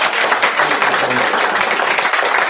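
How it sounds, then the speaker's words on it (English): A bookstore audience at an author event applauds loudly, dense steady clapping from many hands filling the room for a couple of seconds, close and bright. "Let's give another giant round of applause."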